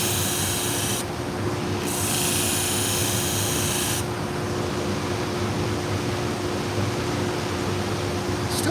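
Surgical instruments being sharpened give a steady rasping, grinding hiss over a low constant hum, with brief shifts in the upper tone as the blade moves against the sharpener.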